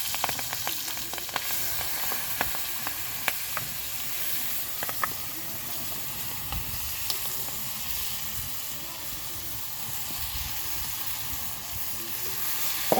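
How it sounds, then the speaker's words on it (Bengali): Onion stalks and chicken fry in hot oil in a wok, giving a continuous broad sizzle with occasional pops and crackles, steady and close throughout. "বন্ধুরা আমার তেল কড়াতে গরম হয়ে গেছে, এবার আমি এগুলোকে আস্তে আস্তে দিয়ে দেবো।"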